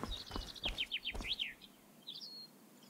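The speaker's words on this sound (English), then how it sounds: "should there be birds at this time at night?" Birds chirp at night in the video game Prison Simulator, a series of clear, quick whistled tweets in short bursts, then a faint pause and a softer call, with low background noise.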